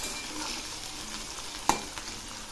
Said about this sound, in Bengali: এবার আমি ডুমো করা কয়েকটা আলু ভেজে নিচ্ছি